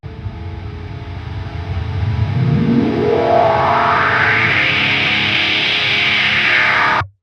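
A synth sound runs through a Cubase morph filter sweep that rises steadily in pitch, a smooth whooshing glide building to a bright, sustained, distorted tone in a modern metal track.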